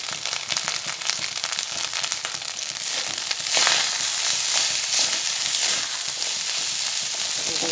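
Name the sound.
rice frying in oil with vegetables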